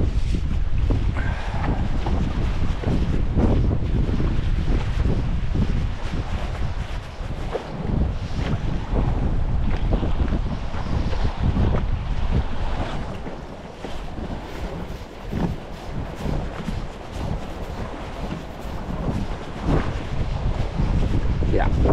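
A strong 10-metre-per-second wind at sea during autumn trout fishing off Als buffets the microphone in a continuous roar, with water and wave noise mixed in throughout.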